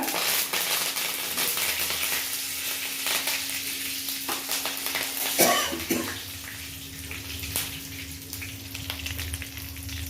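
Mustard seeds, cumin, torn dried chillies and curry leaves splutter and sizzle in hot oil for a Tirunelveli mango-jaggery pachadi, a dense, steady crackle close by with a brief louder burst midway.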